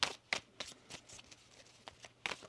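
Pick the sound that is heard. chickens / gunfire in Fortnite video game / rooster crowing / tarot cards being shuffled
tarot cards being shuffled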